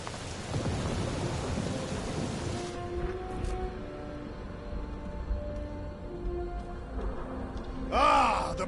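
A thunderstorm rolls through a Guardians of the Galaxy game world, with steady rain hissing over deep thunder rumbles that fade into a quieter stretch of ambience and tones, then a brief sharp burst near the end.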